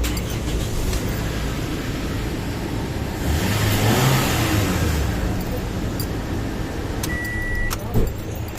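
A 2011 Toyota Corolla engine with a new genuine muffler idles and hums steadily nearby, swelling briefly midway, with a voice speaking over it and a few small clicks toward the end.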